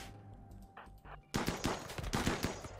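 Gunfire in the colony game RimWorld. A few faint shots are followed by a sudden loud, dense flurry of overlapping shots that keeps going to the end.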